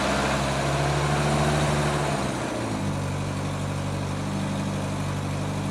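An engine on a 544 tractor is cranked after a fuel tank replacement, with a steady churning turnover that catches around two seconds in and settles into a loud, continuous running rumble.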